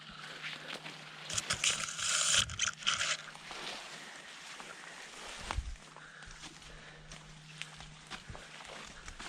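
Footsteps swishing through soaked grass on a remote Colorado mountain trail near Colorado Springs, quiet rhythmic rustling steps with a louder brushing burst early on, faint and close.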